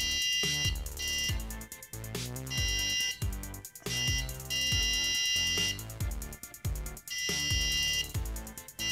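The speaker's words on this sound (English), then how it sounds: "if you get close to the ultrasonic sensor, the buzzer will go off" A buzzer wired to an ultrasonic sensor sounds in repeated bursts of harsh, high-pitched beeping, pulsing on and off in a regular rhythm, loud and close with no voices.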